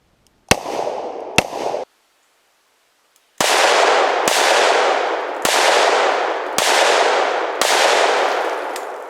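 Handgun rounds fired at a concrete block outdoors: two sharp loud shots with short ringing tails, a brief silence, then a faint tick and five more loud bangs at roughly one-second intervals, each followed by a lingering roar.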